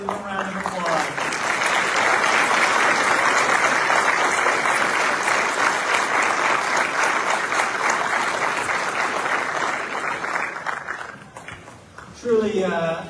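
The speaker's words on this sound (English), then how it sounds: "give them a round of applause" Loud, sustained applause from a crowd at an Army chaplain officers' course graduation, a dense roar of clapping for about eleven seconds that fades out before a voice speaks at the end.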